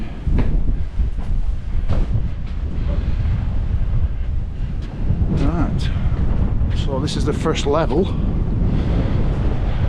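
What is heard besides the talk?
strong wind blowing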